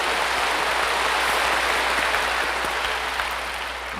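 Church congregation clapping together, a dense, loud wash of many hands applauding steadily from start to finish in a large hall, with no voices over it.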